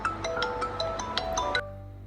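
A phone ringtone repeats a bright melodic pattern several times, then cuts off abruptly, with no one answering or speaking.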